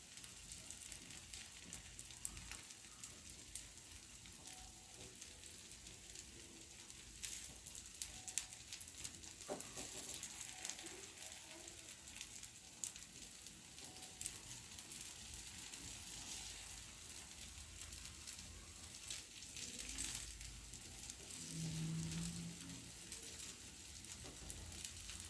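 Sweet Chettinad kuzhi paniyaram, half-turned, cooks in a pan with a soft, steady sizzle and faint patter, held low and continuous without speech.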